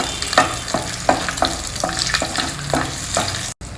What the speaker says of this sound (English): add in a few raisins. Fry them also well in the ghee.